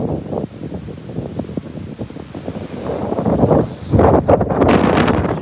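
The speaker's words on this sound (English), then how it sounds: "we're getting into the higher gust winds" Strong, gusting hurricane wind from Hurricane Helene in southwest Florida roars and buffets the microphone in uneven surges, swelling louder toward the end, with no speech.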